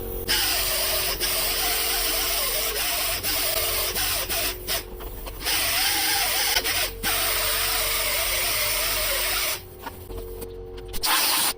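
Continuous loud scratchy rasping of a wire brush scrubbing a car water pump for prep, running steadily with a few brief pauses and breaks near the end.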